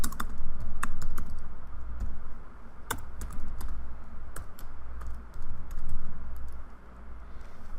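Fingers type code for a Visual Basic login form on a computer keyboard, with rapid, uneven clicking keystrokes close to the mic and no voices.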